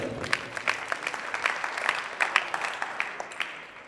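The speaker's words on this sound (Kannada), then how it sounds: "ಜೋರಾದ ಚಪ್ಪಾಳೆ" Loud applause breaks out at a temple auction of cradle ceremony items, a dense run of hand claps with a few louder crisp ones, filling the room and going on steadily without a break.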